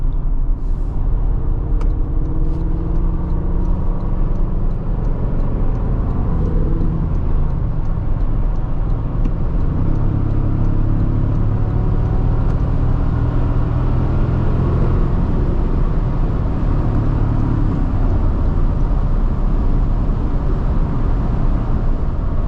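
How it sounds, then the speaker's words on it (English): Steady highway wind and road roar inside a 2024 Toyota Tacoma TRD Off Road pickup at cruising speed, a constant loud broadband rush with low rumble and no talking. "There is a decent amount of wind noise here on the highway."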